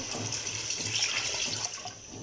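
Water poured into a pot of chicken while cooking a spicy biryani, a steady continuous splashing stream that stays fairly even and close throughout.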